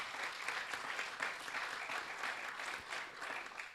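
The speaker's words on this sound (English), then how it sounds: "round of applause for our two silver sponsors" A steady round of applause from an awards ceremony audience honoring sponsors, soft and somewhat distant, with dense even clapping and no talk.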